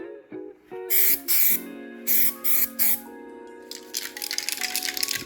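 Several short hissing bursts from an aerosol spray paint can held about two feet from a console top, then a longer continuous spray, close up, with a faint tonal background underneath.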